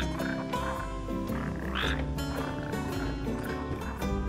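Red frogs croak at a slough in the video game Final Fantasy XV, a dense steady chorus of overlapping croaks that fills the whole stretch with a constant even background and no talk.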